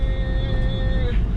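Inside a 2021 Toyota Prius AWD-e driving in the city: a steady low road and drivetrain rumble with a faint electric whine, continuous and close, under the cabin's ambient noise.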